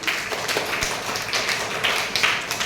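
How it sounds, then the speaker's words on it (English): A teacher claps for students in a school classroom memory activity, a run of brisk, close handclaps over a steady murmur of room noise. "Okay, now I'm clapping to both of you. Clapping to all of you."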